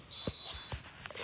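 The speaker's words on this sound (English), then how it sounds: "Sorry for that beeping sound and for the running water." A single thin, high electronic beep holds steady for about half a second, fairly faint, with a few soft knocks around it indoors.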